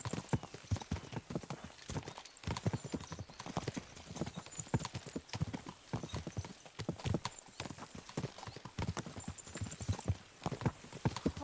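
Horses gallop in Kingdom Come: Deliverance with a steady, rapid clip-clop of hooves, moderately close and continuous throughout, with no talking over it.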